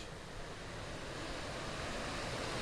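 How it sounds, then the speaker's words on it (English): A small waterfall in a forested park rushes steadily nearby, a continuous broadband hiss of falling water without pauses. "Around a little waterfall here."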